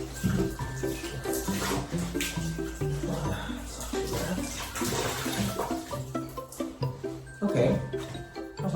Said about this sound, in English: I'm trying to improvise a quick little shower post work.